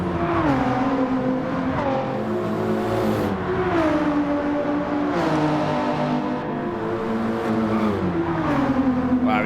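A racing car engine in Gran Turismo 7, a Triumph TR7 in a daily race, droning loudly and continuously with repeated rising revs and gear-change dips, close and unbroken, no talking.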